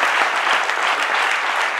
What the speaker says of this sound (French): Ça s'applaudit encore une fois de plus.